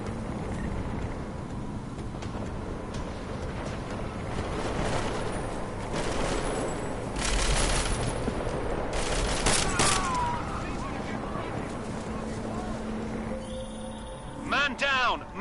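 Rapid bursts of battle rifle fire ring out amid game combat in Deus Ex, dense overlapping shots with effects and radio-style voices talking over the action.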